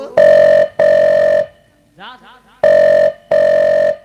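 Telephone bell ringing at a Nautanki folk theatre stage show in Raebareli: four long, loud, steady ring bursts in two pairs, with a brief burst of voices in the pause between them.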